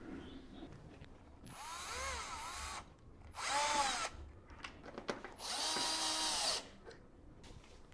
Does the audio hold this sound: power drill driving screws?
yes